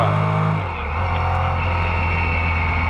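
Racing engine of a long-tail Porsche, number 25 with a 3-liter motor, heading downhill at Rennsport Reunion: a loud, steady droning roar with a gear-change dip early on, close and sustained throughout.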